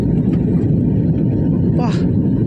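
Inside an airliner cabin as it comes in to land on the runway at Mumbai: a loud, steady low rumble of engines and airflow fills the space, with a faint voice briefly audible.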